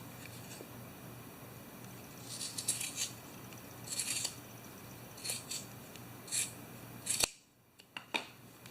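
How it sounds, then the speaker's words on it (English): Scissors cut fabric for a Pokeball plush in several short crisp snips spaced a second or so apart, close and clear over a quiet background, with no talking. "I'm going to just cut a little bit off the bottom here"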